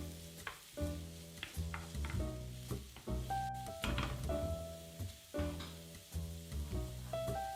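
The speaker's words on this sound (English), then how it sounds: "First going in will be the onions. Saute until translucent for about 2 minutes." Onions sautéing in a pan, a steady frying sizzle broken by regular stirring scrapes and knocks, close and clear, with a melodic tone running underneath.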